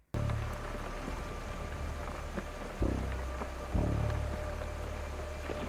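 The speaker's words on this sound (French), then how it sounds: "je n'ai pu entendre que le bruit de la pluie." Steady rain falls throughout a scene in the horror game Tales Beyond The Tomb, a dense continuous patter with two low muffled thumps rising briefly out of it, no voices.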